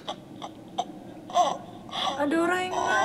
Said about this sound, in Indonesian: Ada orang yang nangis.